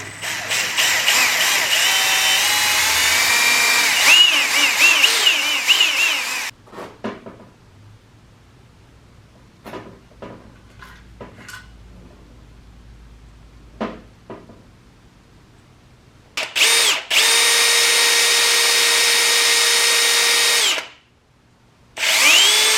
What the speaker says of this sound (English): drill out the hole, and then I will chase it with the proper size extractor.